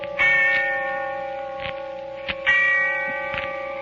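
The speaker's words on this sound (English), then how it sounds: "And the sound of the bell tolling away in the darkness of early evening." A church bell tolls twice in the early evening darkness with a ringing, sustained tone that lingers and decays between strikes, heard alone with some echo.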